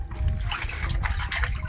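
Water trickling and splashing through an off-grid washing machine where a small wedge directs the flow, a continuous close, fairly loud wash of liquid lasting under two seconds.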